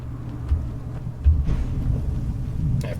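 Thunder from the Storm Call shout in Skyrim rolls as a low, continuous rumble with a few heavier booms, steady and moderately loud throughout.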